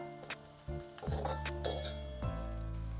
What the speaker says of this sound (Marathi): आता हे व्यवस्थित अशी नीट मिक्स करून घ्या मंद गॅसवरतीच परतत राहा